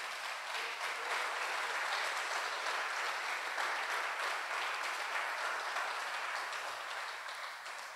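A church congregation applauds in a sustained, even wash of clapping heard from a distance, fairly soft and steady, slowly fading toward the end with no voices over it.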